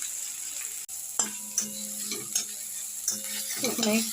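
Potato curry (aloo dum) cooks in a pan with a faint steady sizzle, cut by a sharp click and then repeated metallic clanks and scrapes of a spoon against the pan.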